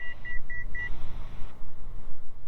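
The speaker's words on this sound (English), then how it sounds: "That beep was to let me know I left my altitude" Four short, evenly spaced electronic beeps from a Bendix King autopilot altitude alert sound clearly over a steady low aircraft engine drone, then the drone continues alone.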